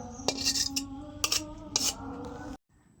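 A metal spoon scraping and clinking against a pan while red spinach and shrimp fry is scooped out, several sharp scrapes over a light background hiss, close and moderately loud, ending abruptly.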